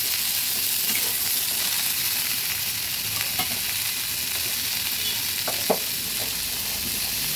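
Turmeric and slit green chillies fry in a pan for a vegetarian pumpkin and bean bhaji, with a loud, dense sizzle held steady throughout and a few sharper stirring scrapes near the end.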